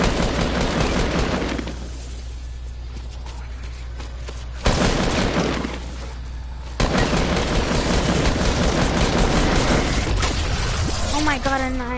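Loud video game gunfire with rapid bursts and volleys of shots that come in blasts and pauses over about twelve seconds, mixed with some talking.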